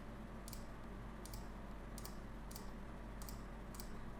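Six evenly spaced mouse clicks sound faintly over a steady low hum while brushing in Photoshop, with no talking.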